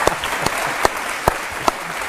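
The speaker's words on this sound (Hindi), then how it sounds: "ताली बजाइए भाई।" A studio audience at a Hindi celebrity interview show bursts into applause, with several sharp clap peaks standing out over a steady wash of crowd clapping.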